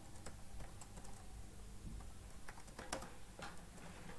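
Typing on a computer keyboard while writing HTML code, a steady run of quick, close clicks and taps at a quiet level with no talking.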